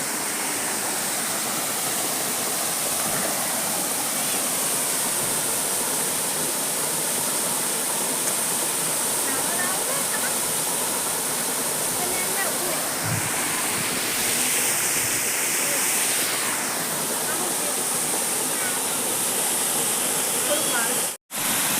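Water falls from a hill at an ashram in a constant loud rushing roar, steady throughout, while people speak over the torrent at times.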